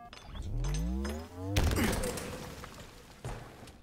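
A grenade blast in a Halo Oddball match on the Livefire map lands as a loud broadband burst partway through, following a stretch of talk with low humming tones, with a smaller thud near the end.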